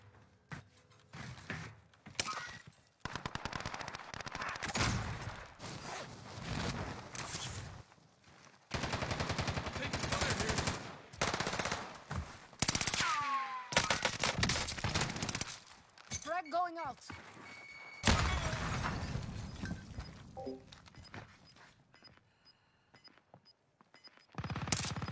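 Video game gunfire during a tournament match, with bursts of automatic fire and single shots coming in loud clusters between quieter gaps, mixed with mechanical clicks and a player talking over it.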